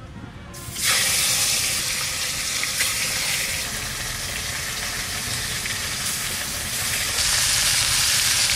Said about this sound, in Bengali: মাছের মাথাটা সুন্দর করে লাল লাল করে ভেজে নেব।